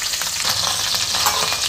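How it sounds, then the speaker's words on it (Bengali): Hot oil frying in a pan while cooking fish head, a steady close sizzle with fine crackles and faint stirring, no talk. "আর দেখো তেলটা আর একটু ভাজা হোক"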